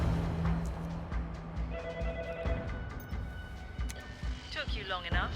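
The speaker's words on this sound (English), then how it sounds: "Let's answer the phone." A telephone rings in the spy game 007 First Light, a repeating electronic ring sounding under a voice and game sounds, with several short bright ring bursts toward the end.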